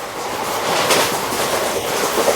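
Train rattling along the tracks, heard from inside a passenger compartment: a steady, close, broadband rumble and clatter with no voices.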